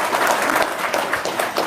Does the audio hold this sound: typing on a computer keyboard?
no